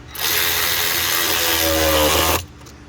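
A ratchet drives 8mm bolts on the stock air box of a 2014 Ford Mustang GT 5.0, heard as one steady, loud, close whirring burst of about two seconds that stops abruptly.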